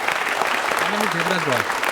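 Audience applause at a college quiz show event, a steady dense patter of clapping with a voice speaking over it partway through.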